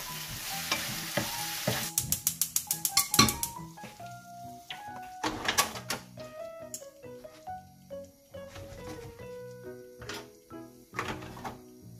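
Slices of pork with onion and leek greens stir-fry in a hot pan for Korean spicy pork, a steady sizzle broken by rapid rattling tosses and repeated spatula scrapes and knocks, close-up and without speech.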